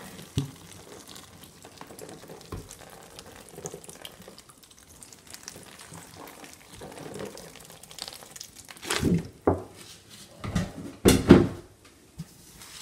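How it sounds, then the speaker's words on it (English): Water is poured over worm bedding for Perionyx excavatus composting worms, a faint trickle at first that swells into louder splashing bursts near the end, close by. "Water it nicely."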